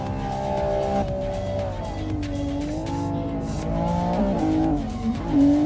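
A race car in a street drifting competition revs hard with a strained, shifting engine note while its tires squeal continuously, close and loud throughout, the pitch sliding up and down as the car throttles through its run.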